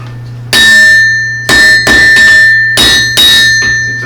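A blacksmith's hammer strikes metal at lower heat to smooth its surface, four loud ringing blows with bell-like metallic overtones spaced about a second apart, close and alone.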